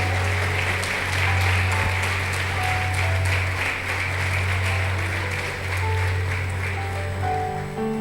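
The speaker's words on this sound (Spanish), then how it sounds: "Dale un aplauso al Señor." Sustained applause from a congregation at a church service, a dense steady clatter of clapping hands over a low continuous hum.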